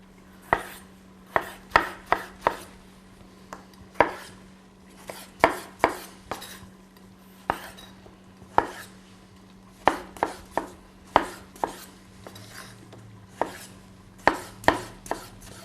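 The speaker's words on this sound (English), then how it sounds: "we'll chop our 2 tomatoes" Knife chopping two tomatoes on a board: sharp, distinct cuts in an uneven rhythm, some quick pairs and clusters, close and clear with no talk, over a steady low hum.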